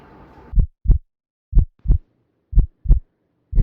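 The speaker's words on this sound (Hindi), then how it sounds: "इसकी दिल की धड़कन तो बिल्कुल नॉर्मल है" Heartbeat sound effect in a radio drama: paired lub-dub thumps, low and close, repeating in a steady rhythm of three and a half beats alone after a brief faint background murmur.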